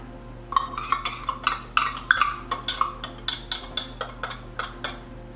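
A metal spoon scrapes green peppers out of a container into a pot, making about a dozen short, close scraping clinks in a steady rhythm.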